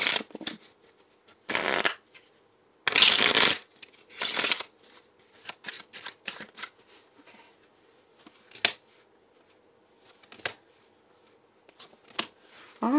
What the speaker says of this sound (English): I'm going to do a quick shuffle